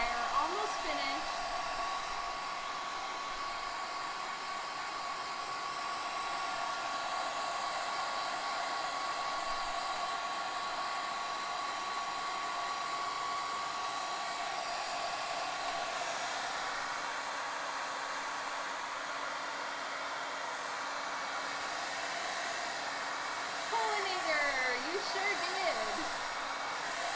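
A blow dryer runs steadily at close range, a constant broadband whoosh holding for the whole stretch with slight shifts in tone near the end.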